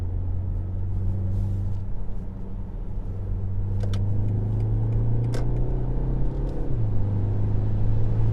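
A 2023 BMW X1 xDrive23i accelerates to overtake, with a steady engine drone and road rumble rising in pitch before a gear change, heard from inside the cabin.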